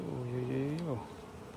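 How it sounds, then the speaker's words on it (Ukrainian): A honeybee from a swarm at a beehive buzzes close by, a droning hum that bends downward in pitch and drops off after about a second. "Так вони працюють ну, конкретно. Рій, напевно, там хороший."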